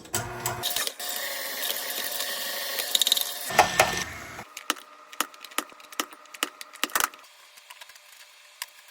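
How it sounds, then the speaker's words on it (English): Cheese is grated for an Italian Easter pie, a steady close rasping scrape for several seconds, followed by scattered clicks and knocks as the grating slows and stops. "So we're gonna get started by grating up all this cheese."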